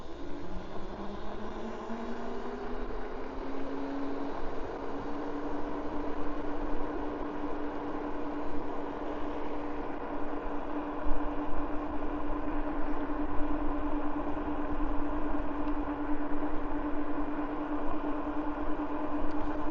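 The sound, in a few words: Coswheel T16 e-bike motor running on throttle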